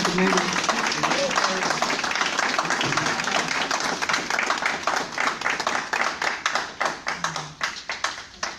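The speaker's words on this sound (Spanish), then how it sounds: "quiero pedirles un fuerte aplauso para la maestra" An audience applauds the teacher at a public talk with steady hand clapping that thins toward the end into separate sharp claps, with faint voices beneath.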